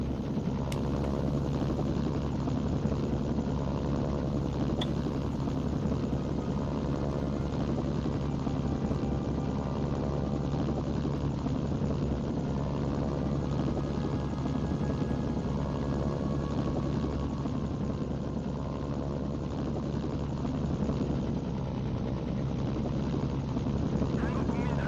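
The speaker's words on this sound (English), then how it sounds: "And I got myself a gunship for keeps." A helicopter gunship flies in a video game, its rotor and engine producing a steady, loud droning whir that continues without break, while voices talk over it.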